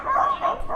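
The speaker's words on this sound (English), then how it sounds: "The little sausage dogs with their attitude." Small sausage dogs bark and yap in a few quick bursts on a town walk by a river, fairly close and moderately loud with no talk over them.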